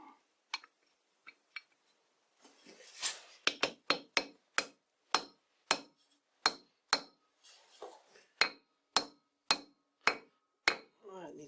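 Hammer driving a plug into a heated leather-belt pulley, a long run of sharp metallic strikes that start sparse and quiet, then settle into a steady, evenly spaced rhythm of about one blow every half second.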